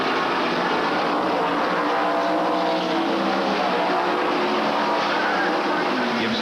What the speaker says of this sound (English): Mark Gibson in a Williams Brothers Lumber Ford